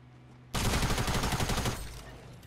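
An SMG from the Fortnite Battle Royale video game fires a rapid sustained burst lasting about a second and a half, loud and close, then tails off into a fading echo.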